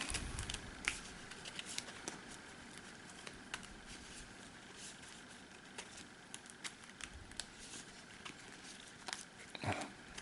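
Cards for the board game Tainted Grail being shuffled by hand, a faint, irregular patter of soft papery clicks and riffles in a quiet room with no talking.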